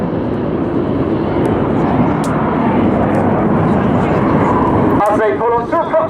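RAF Red Arrows jets roaring past at Southport Airshow 2022 as the synchro pair breaks away trailing red and blue smoke, a loud sustained broadband rush filling the clip, with a voice briefly heard near the end.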